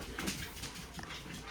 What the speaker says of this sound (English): one of my dogs decided to come downstairs